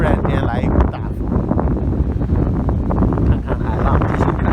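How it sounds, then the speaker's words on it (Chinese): A strong wind gust blows at the seaside in Longkou on a day with big waves, roaring and buffeting the microphone loudly and continuously, with a voice partly buried beneath it. "突然间来一股大风，"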